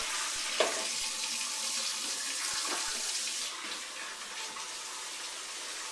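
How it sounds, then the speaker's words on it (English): Water running from a tap into jugs during dairy yogurt making, a steady close rushing flow that holds level throughout, with a brief splash near the start. "Just fill those jugs up."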